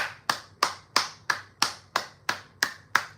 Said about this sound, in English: first of all, clap it up for Point and Shoot.